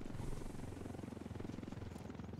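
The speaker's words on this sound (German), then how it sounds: "Helikopter? Ja, der fliegt direkt über uns und in einer nicht zu hohen Höhe." Helicopter flying low directly overhead in the video game Ghost Recon Wildlands, a loud continuous rotor roar with a rapid rhythmic chop that stays steady throughout, with no talk.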